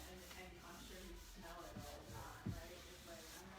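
Wet chalk paint is rubbed over a wooden hutch to distress it, giving a soft continuous scrubbing and sanding texture at close range with a brief louder thump near the end.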